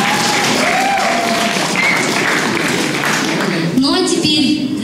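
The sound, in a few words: audience applause at school rock festival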